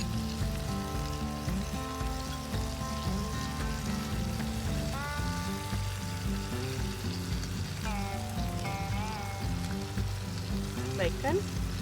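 Bacon frying in a pan for homemade burgers, a loud continuous sizzle and crackle close up, with a person talking faintly underneath.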